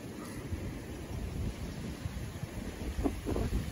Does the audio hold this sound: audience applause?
no